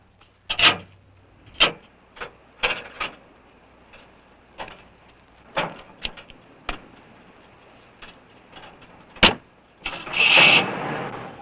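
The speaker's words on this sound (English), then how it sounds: "The motor works, see?" A car whose damaged fender cuts into the wheel, in a 1950s monster film, gives a string of sharp, irregular clicks and ticks during cranking, then a short, loud burst as the engine catches near the end.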